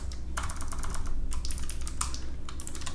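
Typing on a laptop keyboard at close range, with rapid, irregular clusters of key clicks in short bursts and brief gaps between them.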